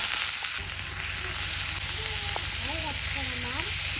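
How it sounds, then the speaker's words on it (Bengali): Garlic, chili and onion frying in oil in a home kitchen, a steady close sizzle running throughout while a few voices talk briefly over it. "এখানে রসুন মরিচ পেঁয়াজটা ভেজে নিচ্ছি।"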